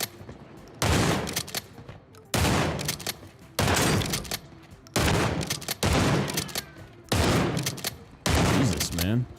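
Seven heavy shotgun slug blasts go off in a video game at a steady rhythm about every second and a half, each a loud sharp burst with a short ringing decay.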